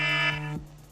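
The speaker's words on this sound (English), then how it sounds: "That was my alarm." A phone alarm goes off with a loud, steady electronic buzzing tone that cuts off abruptly after less than a second.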